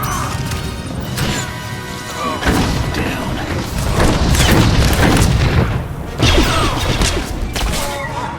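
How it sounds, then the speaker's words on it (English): Blaster gunfire and explosions from a Star Wars: The Old Republic Trooper battle against Imperial soldiers, a loud, dense barrage of booms, crashes and thuds that continues without pause. "Open fire, men!"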